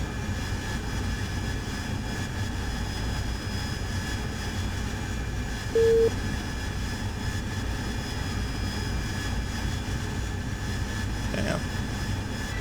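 An AV-8B Harrier jet engine in the DCS video game, a steady droning roar on landing approach that holds through the whole stretch, with only slight shifts as power is added.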